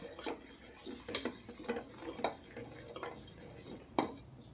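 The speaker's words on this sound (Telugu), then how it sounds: "ఇప్పుడు దీన్ని మనం ఇందులో పాలలో కలుపుకోవాలి." A fruit mixture stirred into milk, with a spoon clinking against a bowl or pot in scattered taps and scrapes, fairly quiet and close.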